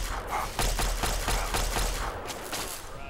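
Pistol fire in Fallout 3, a series of quick sharp shots spaced about half a second apart over a busy background of game noise.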